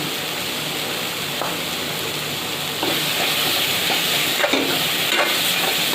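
Tomatoes with turmeric sauté in a pan for an okra curry, giving a steady close sizzle with occasional stirring scrapes and a slight rise in intensity partway through.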